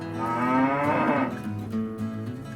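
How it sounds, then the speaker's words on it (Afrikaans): A cow gives a loud, drawn-out moo that swells and then tapers, followed by a second, lower moo toward the end, heard alone with no talking. "Dit is 'n koei."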